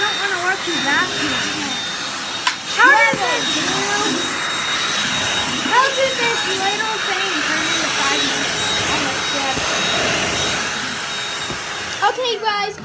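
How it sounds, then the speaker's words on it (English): A household vacuum cleaner runs with a loud, steady roaring whine throughout, while people talk over the noise. "now I need to get the vacuum"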